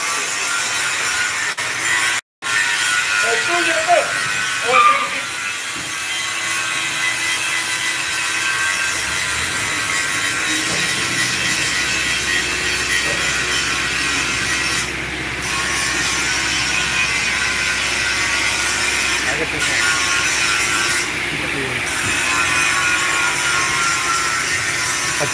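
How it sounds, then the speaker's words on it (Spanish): Wire brush scrubbing along a cracked steel sub-chassis on an International dump truck's tipping frame, a harsh continuous rasping scrape, loud and close, with a brief knock early on and no speech. "Un cepillo alambre"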